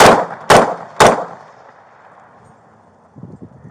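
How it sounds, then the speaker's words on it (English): Two loud, sharp gunshots about half a second apart from a police officer's weapon during a street confrontation, each ringing out and decaying, followed by faint movement sounds. "Shots fired."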